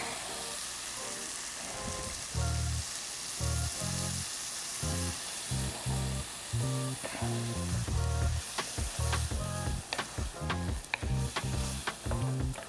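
Corn, bacon and heavy cream cook in a pan with a steady, fairly quiet sizzle and bubbling, broken by irregular scraping stirs and crackles toward the end. Nobody speaks.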